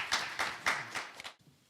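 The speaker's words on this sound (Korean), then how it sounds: "박수 부탁드리겠습니다" A handful of slow, separate claps at a seminar panel sound faintly and a little distant, spaced out across a couple of seconds before fading into quiet.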